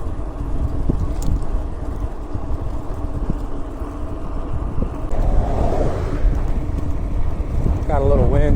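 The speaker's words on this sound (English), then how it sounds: "Got a little wind here, so we're in the aero bar. Headwind, that is." A headwind buffets the microphone while cycling in the aero bars on the road, a loud, steady roaring rush of wind with a brief higher whine near the end.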